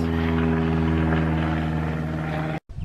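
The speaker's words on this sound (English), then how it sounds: "And there's an airplane going over us, of course." An airplane passes overhead above a summer flower garden in Canada, a steady loud droning roar that holds through the clip before cutting off abruptly near the end.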